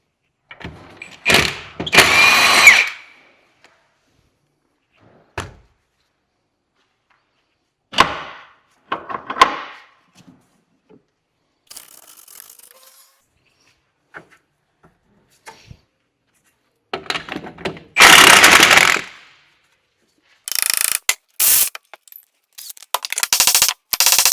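Pinch bolts are worked loose from the hub clamp on a VW Transporter shock absorber, heard as sharp metallic clicks and bursts of ratcheting spaced out between quiet pauses, close up.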